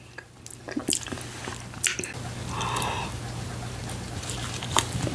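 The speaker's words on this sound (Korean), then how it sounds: "막, 깨무니까 옆에 톡 터지네요" Close-up biting and chewing of a TikTok fruit jelly shaped like a strawberry, with soft squishy pops and wet mastication that is loud and intimate, plus a few sharp clicks.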